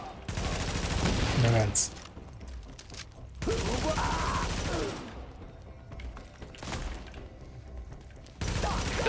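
Bursts of rapid automatic fire from a deployed gun turret in a video game, heavy clattering volleys separated by gaps, with a voice talking briefly between them.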